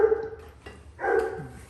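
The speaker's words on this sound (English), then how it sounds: "Dogs want to get in here and be a part of this judging too." Dogs barking nearby during a backyard barbecue sauce tasting, with a few short barks and yelps coming in bursts, fairly loud and close with no talk over them.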